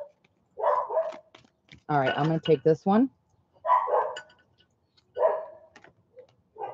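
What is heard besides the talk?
dogs barking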